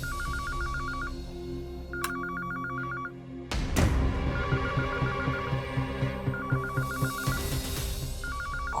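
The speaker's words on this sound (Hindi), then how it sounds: "कौन? कहाँ का फोन बज रहा है?" A telephone rings in a household drama scene, its repeated electronic trills coming in regular bursts over a steady background hum and music, with a sharp knock partway through.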